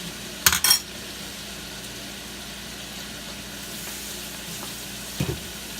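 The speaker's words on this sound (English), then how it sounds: "We're frying the chicken now." Chicken in oil sizzles quietly and steadily in a pan, with a couple of sharp metallic clinks from utensils near the start and again near the end.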